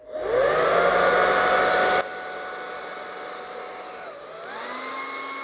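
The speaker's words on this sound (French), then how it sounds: "la position du sèche-cheveux est très importante" A hair dryer blows steadily on paint for a Dutch pour, loud and close at first, then lower as its setting or angle changes, with a brief dip and rise in pitch near the end; no talking.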